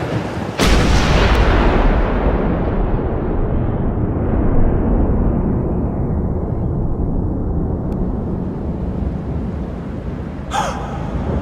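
Gunfire in the Max Payne 2 video game: one sudden, very loud blast followed by a long, heavy rolling rumble that slowly fades over several seconds, with a faint sharp sound near the end.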